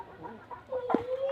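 Country hens and a rooster cluck close by, with a quick burst of clucks followed by a drawn-out tonal call, all within about a second and a half over a quiet farmyard background.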